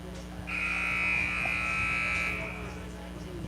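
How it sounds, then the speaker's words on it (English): A long electronic buzzer at a high school basketball game sounds steadily for about two seconds, loud over gym crowd murmur and hum, then cuts off. "They've blown the buzzer there at around a minute"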